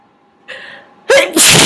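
One big human sneeze sounds close and loud, starting with a sharp inhale and then exploding in a burst at the end.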